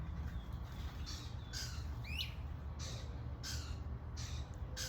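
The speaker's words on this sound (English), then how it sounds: "it was like a fight between like multiple squirrels and multiple birds" Several birds give sharp chirps and squawks in trees during a scuffle with squirrels, a few brief calls spaced out over a constant outdoor hum, fairly faint and with no talking.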